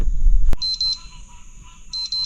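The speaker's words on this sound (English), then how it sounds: "Well, that's my alarm clock." A sharp click, then an electronic alarm beeps in quick bursts of repeated high tones, close and clear, with a quieter pause between bursts.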